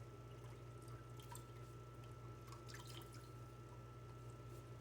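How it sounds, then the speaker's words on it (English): Water dripping and trickling while a face is rinsed after a wet shave, faint scattered splashes and drips over a steady hum, close by with no voices. "Do a rinse."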